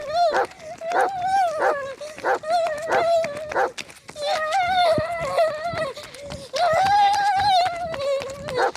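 A person imitating a dog yelps and barks, repeated high whining yips over several seconds, loud and close.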